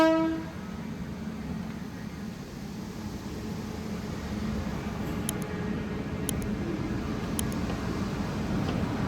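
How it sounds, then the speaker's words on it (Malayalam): A train at Jammu railway station gives a brief horn blast at the very start, then its rumble continues steadily and fairly faintly in the background, with a few sharp clicks along the way. "ഇതാണ് നമ്മ വന്ന ട്രെയിൻ."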